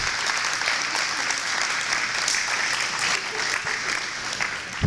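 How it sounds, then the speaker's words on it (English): Sustained applause from an audience at an Ignite Sheboygan speaker event, dense and steady throughout, loud and close with no break. "can I ask all of them to stand up, please, so we can give them a beautiful round of applause?"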